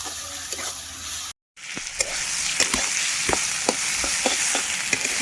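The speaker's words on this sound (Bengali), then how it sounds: "রসুন বাটাটা একটু বেশি করে দেবো আদা বাটা ভালো করে নাড়িয়ে নেবো" Garlic and ginger paste sizzles in hot mutton fat for a curry, giving a steady close frying hiss. Occasional clicks and scrapes of stirring sound through it, with a brief cut near the start.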